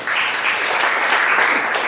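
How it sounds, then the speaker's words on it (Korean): Audience applause at a coworking demo day, welcoming a presenter to the stage: dense, steady clapping from a crowd, fairly loud and close, holding evenly with no voices over it. "큰 박수로 맞이해 주십시오."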